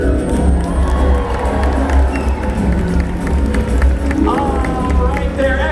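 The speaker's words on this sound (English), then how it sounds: "let's give her a great big cheer" A stadium crowd at a SeaWorld Orlando orca show cheers and shouts, a loud, dense roar with children's voices mixed in, swelling and continuing under an announcer's amplified speech.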